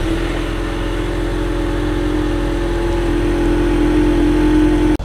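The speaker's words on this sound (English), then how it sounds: "We're now going to get a cold start on a 2020 premium EcoBoost Mustang." A 2020 Ford Mustang EcoBoost Premium convertible engine turns over on a cold start and settles into a steady, loud, close idle with a strong low drone, cutting off abruptly at the end.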